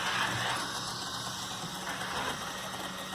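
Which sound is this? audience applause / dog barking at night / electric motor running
electric motor running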